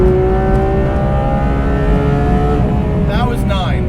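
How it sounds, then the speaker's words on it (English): A Porsche 991.2 GT3 RS engine sings at high revs, a loud and steady mechanical howl with layered harmonics, heard from close by inside the car, with a brief chirping squeal near the end. "The engine just sounds amazing."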